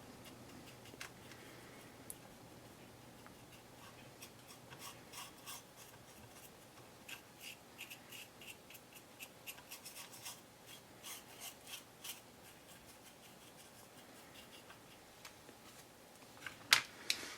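A small brush is swept over loose model coal on a model railway freight load, making soft, close, repeated scratchy strokes with light ticks and a sharper clatter at the end.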